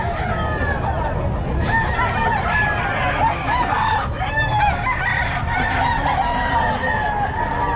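At a busy pet market, a gold pumpkin bull stag rooster crows loudly and close over a dense din of other crowing and clucking fowl, with voices faintly in the background.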